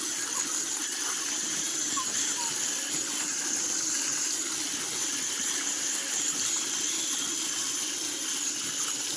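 Water runs steadily at low pressure while a goats' automatic waterer is washed out on a small farm, a continuous even rush and hiss lasting throughout, moderately close with no talking.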